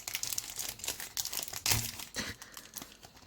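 Crinkly foil wrapper of a Harry Potter movie trading card pack is crumpled and torn open close up, giving continuous rustling and crackling with a few sharper tearing bursts.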